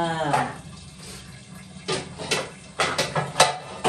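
Water runs from a tap as a pot is washed at the sink, with intermittent clanks and scrapes of the pot under the flow, fairly close.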